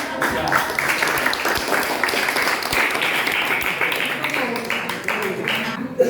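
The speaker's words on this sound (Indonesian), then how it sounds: "beri aplaus untuk kelompok berapa?" A classroom group claps for a student group, with dense, steady applause that lasts several seconds, and some voices mixed into the clapping.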